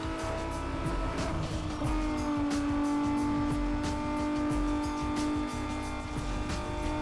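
Racing cars roar through Need for Speed Underground 2, a loud, steady, high-pitched engine drone with shifting revs and repeated short bursts, holding without pause throughout.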